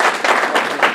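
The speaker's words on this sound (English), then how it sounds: "let's give him a big round of applause" Brief burst of audience clapping at an observatory anniversary talk, loud and close with a few pulsing swells over one second.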